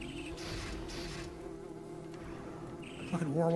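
Loud, steady insect-like buzzing of war wasps in the video game Metroid Prime Hunters, droning continuously over game sounds with a brighter burst near the end.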